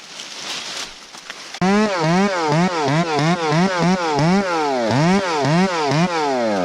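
A chainsaw bucks a heavy log into lengths. It starts abruptly after a moment of rustling and then runs loud and close, its pitch swinging up and down in repeated throttle surges as it cuts.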